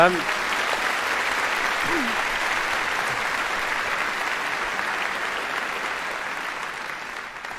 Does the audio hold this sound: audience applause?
yes